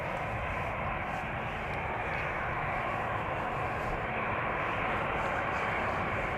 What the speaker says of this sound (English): Two airplanes coming this way. EasyJet in the foreground to Manchester